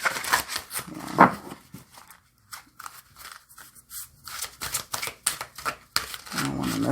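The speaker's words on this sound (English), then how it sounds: "I'm trying to shuffle them up." Oracle cards being shuffled by hand, with irregular papery riffles, slides and taps coming in short bursts and pauses, fairly close and soft.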